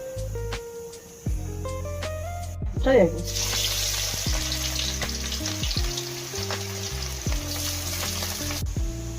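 Onion frying in mustard oil in a wok, a steady close sizzle running throughout with occasional stirring clatter, under music with a brief pause near the start.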